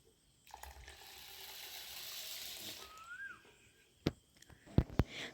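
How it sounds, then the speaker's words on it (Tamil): Soaked green gram lentils are washed as water pours and swishes steadily for a few seconds, then several sharp clinks and knocks follow nearby. "இது மறுபடியும் நல்லா தண்ணியில் போட்டு நல்லா வாஷ் பண்ணி எடுத்துகிட்டு"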